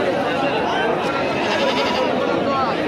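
Male goats bleat at a large livestock market for goats and rams in Chelur, the calls mixed into a dense, constant crowd din with people talking throughout.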